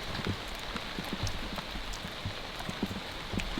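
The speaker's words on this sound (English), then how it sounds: "Storm is just about to get intense." Steady rain from a severe storm on an off-grid homestead patters down in a dense, even hiss, with scattered heavier drops tapping nearby throughout.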